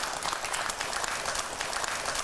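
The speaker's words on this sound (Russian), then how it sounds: "Вновь аплодисменты." An audience applauds at a televised public affairs discussion, with quick, continuous clapping at a moderate, even level throughout.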